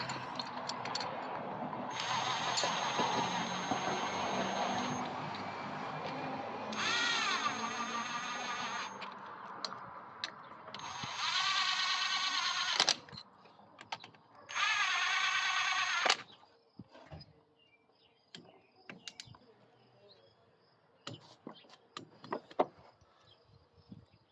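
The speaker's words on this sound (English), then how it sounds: "My head bolts, and I'm just going to snug them down." Cylinder head bolts on a 212 Hemi engine fitted with a non-Hemi 224 head are snugged down by a power tool in four sustained whirring bursts, followed by scattered metallic clicks and clinks in a quiet shop.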